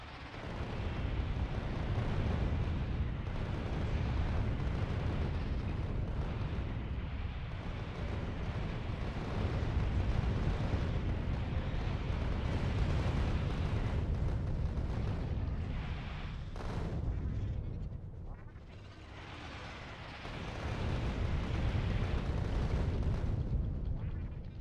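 Sustained barrage of rumbling explosions in Factorio, a video game, loud and continuous like rolling thunder, with a short dip near the end before resuming, no speech.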